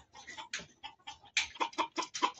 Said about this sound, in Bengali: টার্কি মুরগি